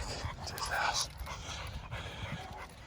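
A rescued pit bull, found running loose down a road, pants and whimpers close by while people talk over it.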